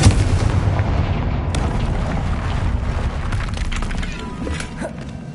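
A Confringo blasting spell in the Hogwarts Legacy game bursts with a loud booming explosion at the start, then fades into a crackling, rumbling decay.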